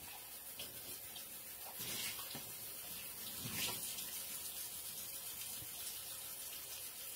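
A kitchen tap runs continuously while dishes are washed, a faint, steady hiss of water with a few soft splashes and clinks, and no speech.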